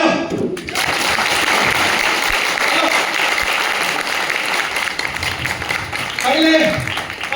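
An audience applauding at a team seminar in India, sustained dense clapping for several seconds that tapers off, with voices audible near the end.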